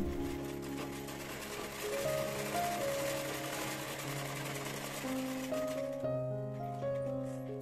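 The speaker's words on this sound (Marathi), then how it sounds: "आता हे ओपन करायचं आणि याच्यावर दाबटीप मारायची." Sewing machine stitching a katori blouse, a steady continuous mechanical run with tonal hum lasting throughout, moderately loud and close, with no talk over it.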